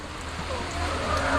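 Heavy rain falling steadily in a rural Philippine rainy-season setting, a dense continuous wash of drops on surfaces that swells slightly louder toward the end, with no voices over it.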